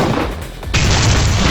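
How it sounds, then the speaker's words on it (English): In a video game, a sudden booming explosion cuts in after a quiet stretch, blowing off a door, followed by a loud, sustained roar of rumbling debris that continues to the end. "Once the explosion happened, the blast blew off the door and it smashed up."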